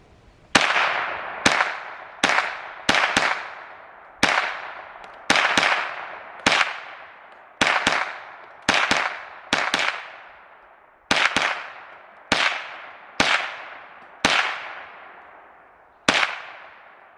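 Sharp gunshots from an H&K MP5 in .22LR ring out one at a time at an irregular, moderate pace, about twenty close, snappy cracks, each with a short ringing tail.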